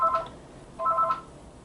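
A telephone sounds with two short electronic tonal bursts about 0.8 seconds apart, fairly quiet and alone, interrupting a makeup session.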